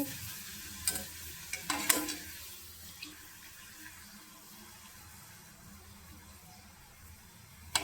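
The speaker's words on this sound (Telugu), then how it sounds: "ఇలా ఒకదాని తర్వాత ఒకటి ఇలా వేయించుకోవాలండి" Appadalu papads fry one after another in hot oil with a faint, continuous sizzle, broken by a few light clinks of stirring early on.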